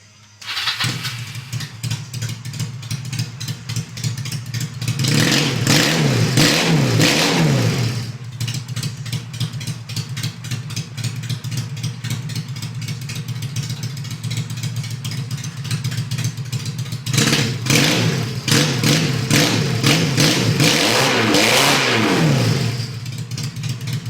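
A 1952 Harley motorcycle engine idles with a steady throb, then revs hard twice in long roaring bursts through the exhaust before settling back to idle.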